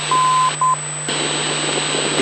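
Beeping tones of a localizer Morse ident over a light aircraft's radio in a Piper Cherokee on an IFR flight, two steady beeps over a constant radio hiss and hum, then only the noise remains.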